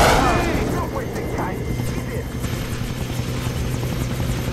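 A helicopter's rotor thumps and engine drone fill the scene in Far Cry 3, steady and fairly close, with game sounds layered over it.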